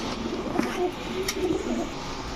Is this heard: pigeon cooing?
yes